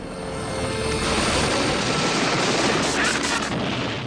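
Dense, rumbling bursts of rapid helicopter gunfire mixed with the helicopter's drone, loud and continuous, swelling slightly in the middle.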